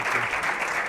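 A crowd of students and teachers applauds the Escola El Cim team from Terrassa at a televised school spelling contest, a dense, steady wash of clapping that fills the whole short moment.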